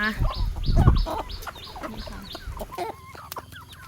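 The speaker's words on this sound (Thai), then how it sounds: "ไก่บ้านของเฮานะคะ" Several domestic chickens cluck and squawk busily up close while feeding, overlapping calls in quick irregular bursts, with a louder flurry early on.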